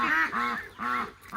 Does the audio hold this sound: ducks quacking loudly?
yes